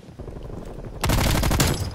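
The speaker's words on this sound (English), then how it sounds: "I thought you were shooting at me" A loud burst of rapid automatic gunfire in a gun game round of a shooter video game, starting abruptly after quieter background noise and staying close and continuous.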